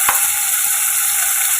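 Vegetables and onion sauté with salt in a hot pan for a rice dish, giving a loud, close, continuous sizzle with a brief stirring scrape near the start and no talking.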